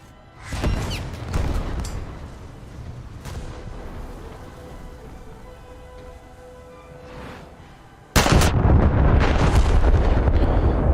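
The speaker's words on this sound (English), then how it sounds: "two turrets fired out of alignment" Battleship turrets fire in a naval video game: a heavy boom followed by rumbling, rolling decay, then a second, louder blast that stays dense and sustained, with no voices heard.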